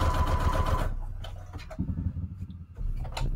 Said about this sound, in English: So let's do a straight stitch here.